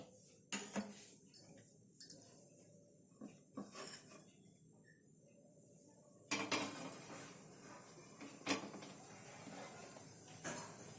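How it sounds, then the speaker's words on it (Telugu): A metal kadai pan clanks onto a gas stove in a home kitchen while chole is being made. Sharp knocks and scrapes come in short bursts over a quiet background with a faint hiss. "బాణలి పెట్టుకున్నాము."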